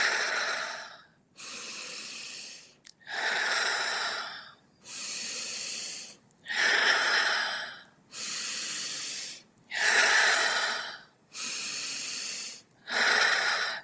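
Slow, deep breaths alternate in and out, eight long airy rushes separated by brief pauses, close and unhurried, with no speech.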